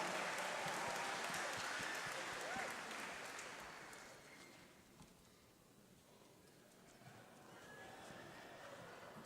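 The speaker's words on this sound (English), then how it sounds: "Give yourselves a round of applause!" Audience applause fills a holiday concert hall after an army band performance, loud and dense at first, then thinning and fading before a smaller swell of clapping returns near the end.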